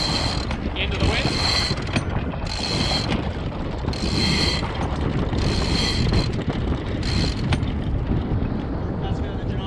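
Anchor chain on a sailboat rattles out in repeated clattering bursts while anchoring, heard over steady wind buffeting the microphone and water noise.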